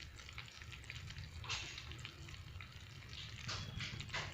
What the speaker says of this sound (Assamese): মই ইয়াত লাহেকৈ গুড়খিনি ঢালি দিছোঁ।